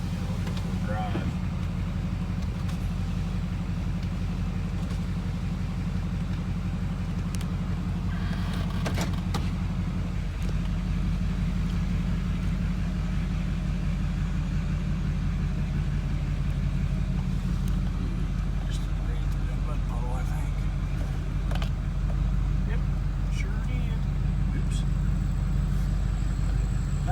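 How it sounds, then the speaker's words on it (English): A tuned 2007 Chevy Silverado 2500 HD LBZ Duramax with a 3-inch downpipe and 5-inch straight pipe exhaust drones on a steady diesel rumble while driving, heard from inside the cab with someone talking over it. "This truck, 3-inch downpipe, 5-inch straight pipe exhaust."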